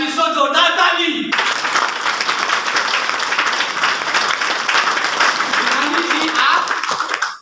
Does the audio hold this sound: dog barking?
no